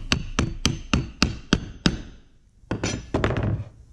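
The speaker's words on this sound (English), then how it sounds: "how to make it go in tight and not by smashing on it just like this with a hammer, a little block of wood." Seven sharp hammer blows on a wood block, tapping in a push button catch, in an even rhythm, then a brief pause and a few quicker, softer taps, close by.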